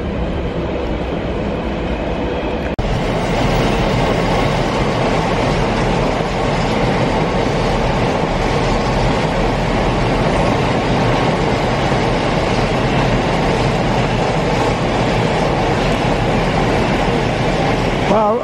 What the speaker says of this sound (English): I was filming a bloody Pendolino.